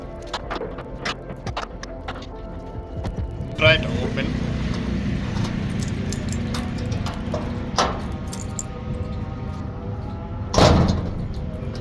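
A door latch lock being fitted back into a door: scattered metallic clicks and taps, then a continuous scraping rumble broken by two sharper knocks or thumps, close up.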